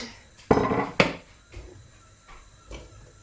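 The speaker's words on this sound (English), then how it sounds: "Put all the onions in." Chopped onions tipped into a pan while cooking an aubergine and halloumi curry, landing in two sharp clattering bursts half a second apart, then a few faint softer knocks, close by and alone.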